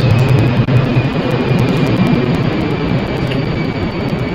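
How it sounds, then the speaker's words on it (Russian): An airplane passes overhead, a loud, steady jet roar with deep low rumble filling the whole stretch, holding level with no talk over it. "кстати, друзья, самолет."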